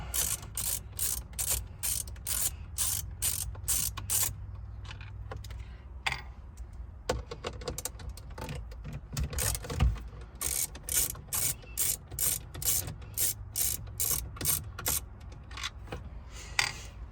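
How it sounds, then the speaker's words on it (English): A ratcheting screwdriver works out two screws above the dashboard screen of a Volvo XC, giving rapid, close, repetitive clicking in bursts with brief pauses between them. "Next, you're going to take these 2 screws out on top of your screen."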